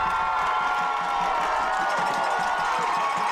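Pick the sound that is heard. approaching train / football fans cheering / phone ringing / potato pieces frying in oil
football fans cheering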